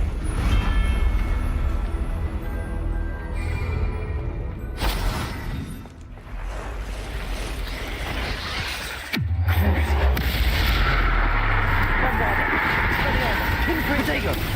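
Confringo fire spell blasts in the Hogwarts Legacy game, heard as sharp bursts and a heavy crackling impact amid loud, rumbling combat noise, with a voice speaking over the action.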